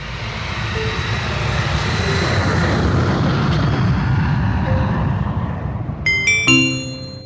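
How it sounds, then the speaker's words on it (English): A big cargo plane flies past with a loud, steady engine roar that holds throughout, and a bright chime rings out near the end. "A cargo plane can fly!"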